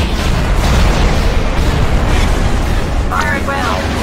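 Explosions from a bombing run in a Star Wars game boom in a continuous dense barrage, loud and rumbling throughout, with a brief higher tone near the end.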